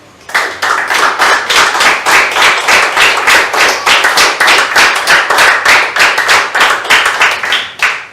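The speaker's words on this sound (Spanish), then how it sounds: "Y le da un aplauso al Señor." A congregation at a church service claps in a steady, even rhythm, about three claps per second for roughly seven seconds, loud and crisp, with no talking.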